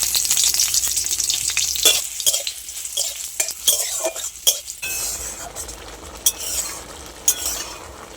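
Nigella seeds, dried chili and onion frying in mustard oil, heard as a hissing sizzle broken by repeated metal spatula scrapes and clinks against the pan, then a softer steady frying hiss.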